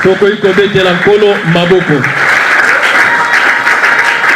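A church congregation at an evangelism and healing campaign breaks into loud, sustained applause and cheering, rising over voices at the start and then filling the room.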